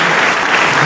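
Dense, steady applause from a church congregation fills the room, continuous and loud throughout with no break or voices on top.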